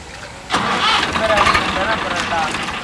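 A car engine cranks and catches after a short quiet lead-in in dim evening surroundings, then settles into a steady loud idle rumble that continues to the end.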